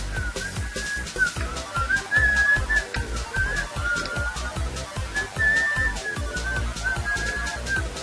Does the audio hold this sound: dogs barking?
no